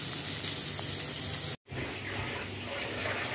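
Sliced onion browning in a frying pan for a Bicol-style beef steak, giving a steady hiss of sizzling oil throughout, briefly cut off near the middle before resuming at the same even level.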